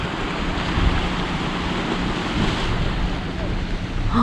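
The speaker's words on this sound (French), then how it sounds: "Et ça y est, on arrive à Medland Beach." Surf and steady wind noise at Medlands Beach in New Zealand, a continuous broadband wash of breaking waves with gusts buffeting the microphone, close and fairly loud.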